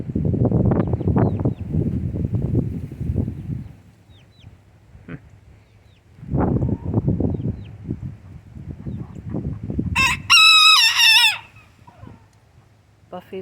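A rooster, its feathers soaked after rain, crows once loud and close in a farmyard, following stretches of people talking over the low hum of the yard.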